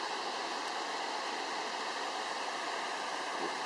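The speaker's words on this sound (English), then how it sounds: "We've got several waterfalls right around us here in the anchorage." Waterfalls cascade down granite hillsides around an anchorage in Princess Louisa Inlet, heard as a faint, steady, distant rush of falling water with no other sounds.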